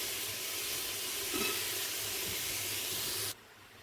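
Pumpkin curry pieces tipped into a hot pot, giving a steady, close hiss and sizzle that runs evenly and then drops away abruptly near the end, with no talking.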